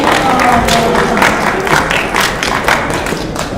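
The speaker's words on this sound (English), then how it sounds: "Everyone else give him a round of applause." Applause from students at a senior class meeting, a mix of claps and thuds with some crowd noise, moderately loud and continuous for a few seconds.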